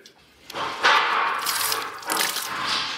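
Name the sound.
water cooling pump for CNC spindle pumping water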